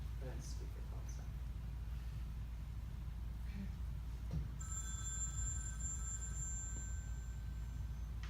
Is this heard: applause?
no